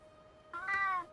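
A pet cat gives one drawn-out meow, close and clear, rising and then falling over about half a second after a quiet stretch, with no talking.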